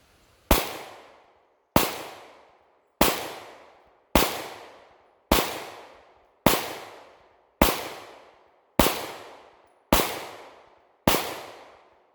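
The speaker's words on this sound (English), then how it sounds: "I'm going to run the Dicken Drill with my plain Jane, no bells and whistles, EDC, and Glock 19" Ten sharp Glock 19 pistol shots fired at a steady pace about one second apart during a timed 40-yard drill, each crack loud and close with a short decaying tail, and no talking.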